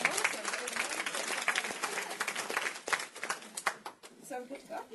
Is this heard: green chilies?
no